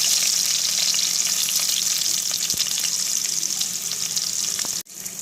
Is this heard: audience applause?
no